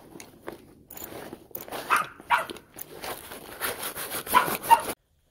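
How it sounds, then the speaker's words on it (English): Soaked military surplus gear being scrubbed, with close, irregular rasping strokes that come in uneven bursts and stop abruptly near the end, with no talking. "do some scrubbing on it"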